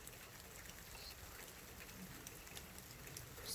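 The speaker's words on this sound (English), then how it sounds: "Man, it's coming down now, Matthew." Rain coming down hard outside during a storm, a faint, dense, even hiss of falling drops with scattered patter and no voices.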